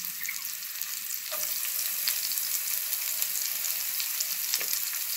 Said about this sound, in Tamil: வெங்காயத்தை நல்லா கொஞ்ச நேரம் வதக்கிடணும்.